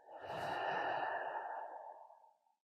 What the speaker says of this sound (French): vous pouvez prendre une longue inspire, longue expire